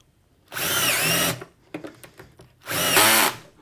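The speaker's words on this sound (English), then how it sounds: "I'm going to use the torque settings on my my drill." A cordless drill set on its torque setting drives screws into pocket holes in wood. Two loud, close bursts of whirring come about a second each, separated by quieter clicks and handling.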